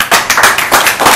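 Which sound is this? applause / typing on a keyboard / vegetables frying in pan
applause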